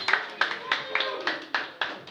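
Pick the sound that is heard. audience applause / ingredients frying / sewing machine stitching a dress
audience applause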